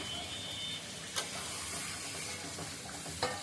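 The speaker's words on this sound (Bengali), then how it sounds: "এবার এটা কষানোর সাথে আমি দারচিনি এলাচি গুঁড়োটা দিয়ে দিলাম, দিয়ে একটু নেড়ে ছেড়ে নিই" Potatoes being stirred in a pan with cinnamon and cardamom powder, giving a close, steady sizzle with two brief scraping bursts from the spatula.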